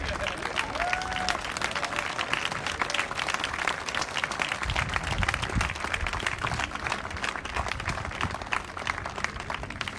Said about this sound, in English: And now we can give ourselves a hand.